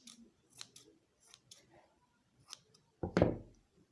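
Scissors trim fabric for a turban cap, with a few soft snips followed by one sharper, louder cut near the end against a quiet room.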